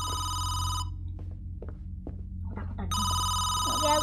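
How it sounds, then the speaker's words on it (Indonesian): A telephone rings in the Home Sweet Home horror video game, its electronic bell bursting out loud, stopping for about two seconds, then ringing again over a steady low hum. "Iya, ada telepon di bawah, sumpah."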